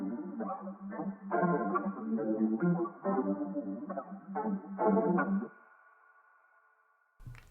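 A pitched audio sample in Logic Pro X, treated with reverb and a clarity effect, plays a short series of bright harmonic notes in uneven rhythm, ending on a held tone that fades into a reverberant tail.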